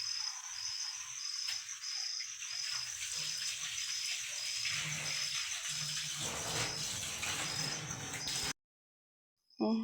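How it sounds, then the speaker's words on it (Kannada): Running water from a tap filling a container, a steady close rushing pour lasting several seconds before stopping abruptly. "ನೀರು ಬಂದಾವ ನೀರು ತುಂಬತ್ತಾರ ಅವರು"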